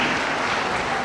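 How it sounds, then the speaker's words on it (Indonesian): Applause from an audience greeting award recipients as they take the stage at a regional POSDAYA convention for West Java and Lampung: a dense, steady wash of many hands clapping, close and even throughout. "Kita beri tepuk tangan yang meriah untuk para penerima penghargaan."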